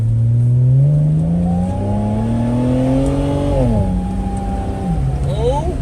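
A car accelerates hard in an empty park, its engine revving loud and close through rising gear pulls, with brief shifts and a drop in pitch partway through, and no talk over it.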